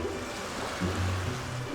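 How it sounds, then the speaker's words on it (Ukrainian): Cartoon ocean waves build in strength at a beach, a steady wash of surf with a low rolling swell that swells midway, close and moderately loud with no voices. "Здається, хвилі посилюються."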